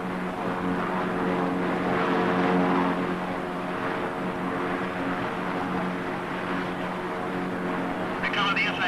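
A Fairey Gannet propeller aircraft drones steadily on approach to an aircraft carrier, a continuous engine hum with someone narrating over it throughout.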